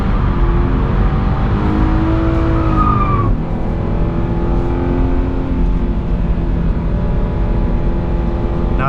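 A 2022 Subaru BRZ on all-season tires drifting, its loud engine droning near and continuous while tires squeal in long wavering tones that rise and shift as the car slides.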